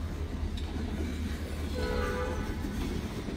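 A freight train rolls past near East Kingsford on a Wednesday morning, a steady loud rumble of cars on the rails with a brief horn-like tone partway through, no voices.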